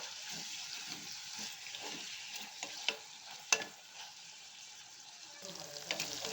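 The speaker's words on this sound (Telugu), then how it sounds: "టమాటా ముక్కలు వేసిన తర్వాత ఉప్పు వేసుకోవాలి కొంచెం పసుపు వేసిన తర్వాత ఇట్లా కలుపుకోవాలి" Tomato pieces with salt and turmeric stirred and cooked in a pan, a soft, close sizzle broken by irregular spatula scrapes and a couple of sharp taps against the pan, no speech.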